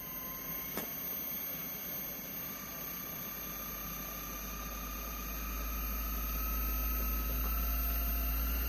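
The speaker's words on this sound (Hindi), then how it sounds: "ये देखें कंप्रेसर ऑन हो गया इसका।" The outdoor unit of a PEL Orient DC inverter air conditioner, which had an F1 error fault, runs with a steady mechanical hum and whine. A low droning rumble swells and grows louder partway through as the compressor ramps up.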